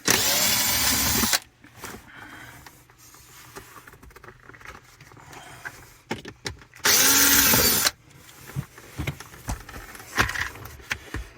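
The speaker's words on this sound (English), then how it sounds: "So what we want to do is we want to pull these screws out here." A power driver removes screws from a 2014-2019 Chevy GMC console, whirring loud in two bursts of about a second each, separated by quiet clicks, rattles and handling of parts.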